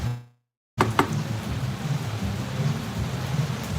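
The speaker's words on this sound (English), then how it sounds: "it's pouring rain, so that doesn't help the cause either" Heavy rain pours down outdoors at a park in El Poblado, Medellín, a dense steady hiss, after a brief silence and sharp cracking thunder onsets at the start.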